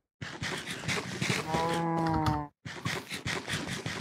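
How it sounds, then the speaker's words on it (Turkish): A cow in the video game Minecraft lets out a long, loud moo in the middle, framed by game sounds and chatter before and after. "Anaç inek."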